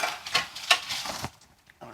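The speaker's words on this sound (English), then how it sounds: "I just make sure the egg gets beaten up" Fork or whisk clinks against a bowl while an egg is beaten for bacon, zucchini and cheese muffin cups, with several quick, bright strokes in a close, uneven rhythm before the sound trails off.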